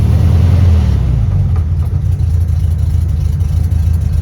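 A car engine, in a vehicle recently fitted with a battery disconnect kill switch, rumbles loudly with a burst of revving, then settles into a steady, close-up idle.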